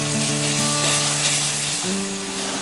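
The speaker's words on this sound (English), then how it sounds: "I'm going to slowly start adding my half and half" Half and half poured into a hot pot, giving a steady loud sizzle and bubbling hiss with faint tonal hum underneath.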